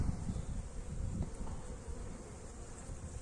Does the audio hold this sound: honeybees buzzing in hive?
yes